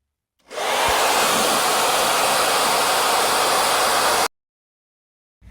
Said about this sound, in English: Oh yeah, the hair dryer. Speeds up the process a bit.